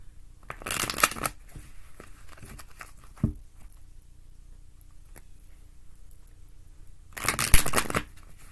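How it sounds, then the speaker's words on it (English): Tarot cards being shuffled by hand, two crisp riffling bursts, one near the start and one near the end, with a few soft taps and a quiet stretch between them. "A couple more good shuffles."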